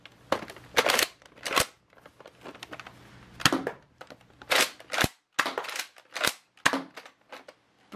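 A toy cap gun being cocked with its priming bar and fired, giving a series of sharp, close snaps and clicks in irregular bursts with short pauses between them.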